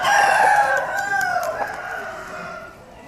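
An eight-month-old rooster crows once in a coop, a loud drawn-out call nearby that trails off, over faint background noise.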